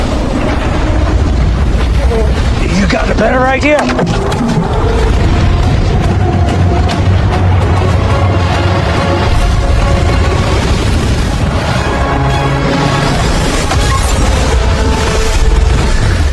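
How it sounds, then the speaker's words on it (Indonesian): A deep booming dynamite blast and continuous heavy rumble of a snow avalanche down a mountain roar on, loud and sustained, with a voice speaking briefly over the din. "dia memasang dinamit dan meledakkannya, membuat gunung salju perlahan longsor"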